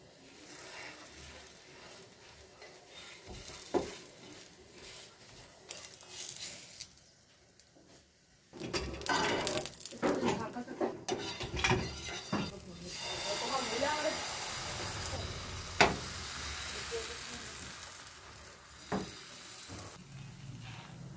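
Ghee hitting a hot pan while making pitha, a sudden loud sizzling hiss that keeps crackling and fizzing steadily, with someone talking over it.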